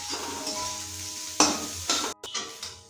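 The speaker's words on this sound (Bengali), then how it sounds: "এবার ভেজে নেব সয়াবিন। সয়াবিনগুলো লাল লাল করে ভেজে নেব।" Soybean chunks fry in hot oil in a kadai for biryani, a steady close sizzle broken by a few scraping stirs of a spatula near the end.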